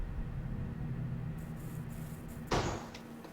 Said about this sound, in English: The noise, as it turns out, was just a draft affecting a door.